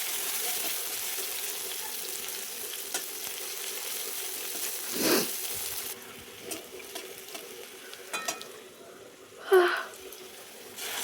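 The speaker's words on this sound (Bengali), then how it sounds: "পেঁয়াজ কুচিটাকে একটু ভালো করে ভেজে নেব।" Chopped onions fry with cumin in a pan for a Bengali fish curry, giving a steady soft sizzle with occasional louder stirring scrapes and clatters close by.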